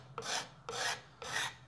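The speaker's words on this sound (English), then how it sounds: "you're just using the card scraper to scrape material off of the handle" A steel card scraper scrapes material off an old wooden handle in three slow, even rasping strokes, each a close, dry scratch separated by brief pauses.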